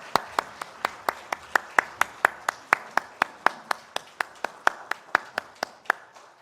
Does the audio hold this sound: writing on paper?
no